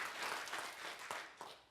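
A seminar audience gives a short burst of clapping at a health lecture, the applause soft and brief, swelling and fading in a few uneven waves.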